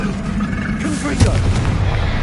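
A Confringo blasting spell in a Harry Potter video game erupts into a single booming burst midway, over steady rumbling game noise, with a voice speaking throughout.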